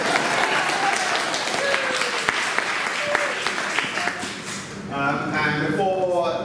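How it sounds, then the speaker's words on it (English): Audience applause at a London event, dense clapping with a few sharp individual claps, fading out as a voice begins speaking near the end. "So another round of applause."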